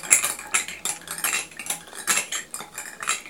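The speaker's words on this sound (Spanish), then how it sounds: "vamos a batir" Homemade play dough mixture beaten in a bowl with a utensil, a quick series of close clattering, scraping strokes against the bowl in an uneven rhythm, with no talk.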